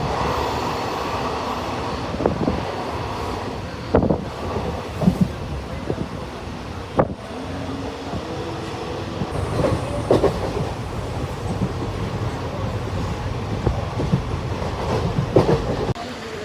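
Steady rumble and rhythmic clatter of a moving passenger train, heard from inside a carriage, with intermittent clicks and bumps over a continuous low drone and faint voices in the background.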